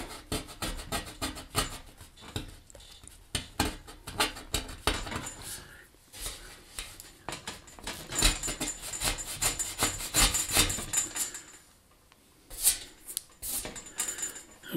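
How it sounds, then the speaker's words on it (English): Epoxy primer is scraped off the steel body of a 1966 Ford Mustang down to bare metal, making close, repeated rasping strokes in uneven bursts with short pauses. "you scrape it down to the metal"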